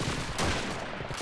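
Gunfire in the World War II shooter Call of Duty 2, a dense, continuous burst of rifle and machine-gun shots with a sharp crack near the middle, loud and steady throughout with no talk.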